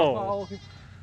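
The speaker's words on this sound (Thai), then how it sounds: "มาพร้อมฝูงแกะเลย" Sheep in a flock bleat near a running route around a reservoir: one close, wavering bleat followed by a quieter, shorter call.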